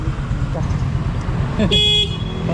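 A motorcycle horn sounds, heard as a near tonal honk of about a third of a second toward the end, over a low idling engine rumble, with people talking nearby.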